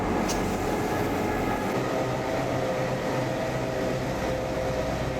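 A steady, continuous engine rumble and rolling rattle of a train with two diesel engines built 1966–1970 in Brisbane, pulling vintage carriages, holds at an even level throughout with no talking.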